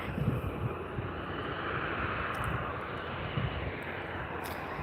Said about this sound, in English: this one's going to be coming in on our close runway here